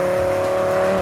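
A tuned Volvo 850 engine holds a high steady note on a dyno, loud and constant with a strong sustained tone for about a second and no voices.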